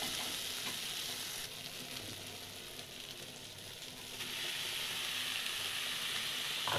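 Boiled banana flower added to potatoes frying in oil and stirred, a close steady sizzle that dips briefly in the middle and then swells louder again, with no talking.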